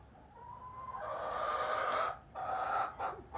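A broody hen guarding a clutch of twelve eggs in a barn gives drawn-out, rising clucks and squawks, close and fairly loud, with brief pauses between calls.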